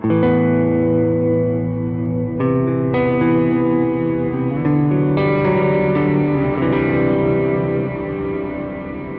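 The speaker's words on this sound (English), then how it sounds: "with these input swell turned on or turned up, you get a more reverb sounding delay sound" Guitar played through a Kemper Profiler delay with input swell turned up: sustained chords fade in softly and blur into a dense, reverb-like wash of repeats, changing chord a few times with no voices.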